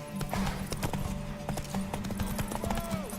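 Horse hooves clip-clopping steadily in The Witcher 3 during a horse race, a brisk repeated rhythm of sharp close knocks under a sustained hum and occasional voices.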